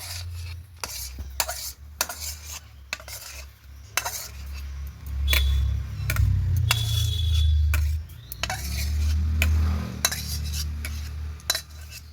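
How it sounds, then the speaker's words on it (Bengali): A utensil scrapes and clinks against a metal plate while cooked raw mango pulp is stirred and spread across the oiled plate, with intermittent sharp taps and a low rumble underneath. "এখন আমি থালে দিয়ে এইভাবে ভালো করে নাড়িয়ে পুরো থালাটা জুড়ে দিয়ে দেবো"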